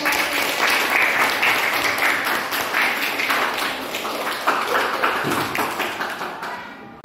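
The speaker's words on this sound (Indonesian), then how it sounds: "Beri tepuk tangan" A class of students claps together in a classroom, a dense, loud burst of applause that carries on steadily and then tapers off near the end.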